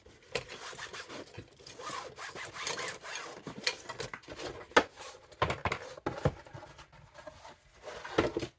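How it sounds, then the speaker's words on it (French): Fingernails press and crease the edges of paper and cardboard for a scrapbooking advent calendar, making close, irregular scraping and rubbing strokes with brief taps. "Je fais bien un bel angle avec mes ongles ou avec votre plioir"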